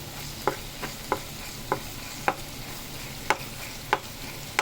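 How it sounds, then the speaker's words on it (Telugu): Turmeric stirred into hot oil in a pan, a soft steady sizzle under a regular series of sharp scraping taps from a spoon against the pan, close by. "తర్వాత అదే నూనెలో కొంచెం పసుపు కూడా వేసుకోవాలి"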